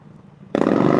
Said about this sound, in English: There's a Harley pulling up.